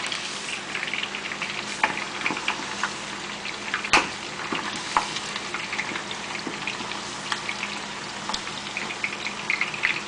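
Oil sizzles and crackles steadily as chicken fries, with occasional louder pops breaking through the constant frying hiss.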